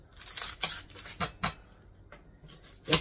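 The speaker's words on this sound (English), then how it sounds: "we need to chop up some onions" A knife chops onion on a cutting board for a gluten-free Big Mac casserole, with several sharp, uneven knocks and scraping strokes heard up close.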